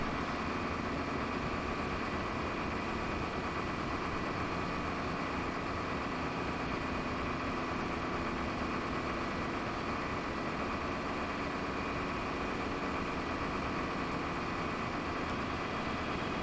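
A train engine idles in Train Simulator 2020 on the North Wales Coast Line, heard from outside as a steady, loud, continuous diesel rumble with a constant hum throughout and no talking.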